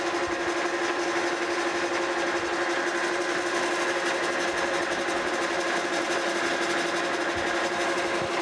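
A metal lathe facing off the side of a new ratchet pin for a FAMCO arbor press, giving a steady, loud machining whir with a constant tone that runs unbroken throughout, with no talking.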